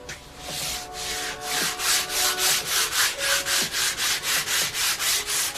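Sandpaper rubbing over a wooden taiaha, starting with a few irregular strokes and settling into a quick, even back-and-forth rasp of about a dozen close, clear strokes.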